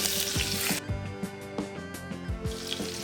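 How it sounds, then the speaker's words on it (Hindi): Potatoes fry in hot oil inside a pressure cooker, giving a soft, steady sizzle with scattered crackles and light bubbling, fairly quiet and without talk. "कुकर में डाल के इस तरीके से फ्राई करूँगी"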